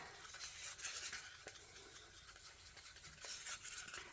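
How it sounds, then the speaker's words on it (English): Coloured resin stirred in a cup, a soft continuous scraping and swishing of the stirrer against the cup walls, close and fairly quiet, with a few tiny clicks and no voices. "just bear with me while I get these stirred up"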